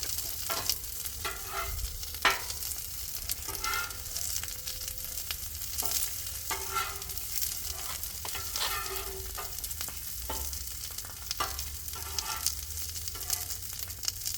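Potatoes cooking on a propane griddle outdoors, a steady crackling sizzle with repeated metallic spatula scrapes and taps across the flat top, close and moderately quiet, with no talking.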